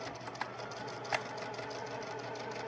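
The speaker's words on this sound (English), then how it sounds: "when we begin, we're going to backstitch" A sewing machine backstitches pillowcase fabric, a steady close whirring hum of the needle with two brief louder clicks as the stitch direction changes.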